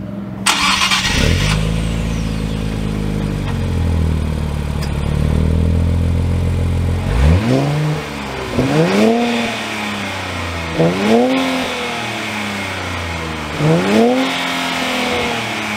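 A 2023 Nissan Z Performance cranks and fires, settles into a low rumbling idle, then revs and pulls away through several rising gear pulls, loud and close with no talking.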